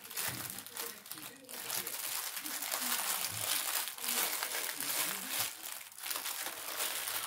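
Plastic zip bags holding diamond painting beads crinkle and rustle steadily as they are handled up close, with someone talking over the crumpling.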